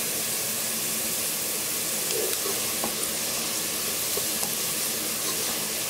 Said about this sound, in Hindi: अनियन हमारे फ्राई हो रहे हैं